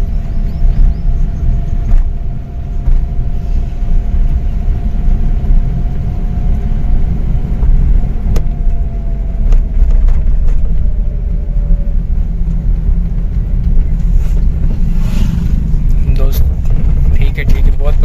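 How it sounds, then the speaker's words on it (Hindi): A car drives along while being shifted into second gear, with a loud, steady low engine rumble throughout and a rising whine that fades midway. "बिना बताए ही दूसरे गियर में भाई ने डाल दी गाड़ी"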